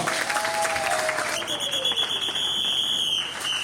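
A wedding congregation applauds and cheers loudly, acclaiming Jesus. A steady wash of clapping holds throughout, with a shrill whistle cutting through near the end.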